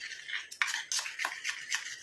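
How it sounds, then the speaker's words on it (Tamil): A homemade hair dye mixture is stirred in a bowl, producing a run of quick scraping and clinking strokes close to the mic, with no voices. "அந்த மாதிரி கலந்து விட்டுருங்க."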